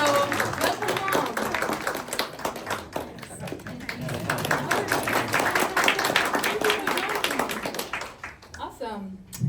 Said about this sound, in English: Please give a big round of applause for Roya.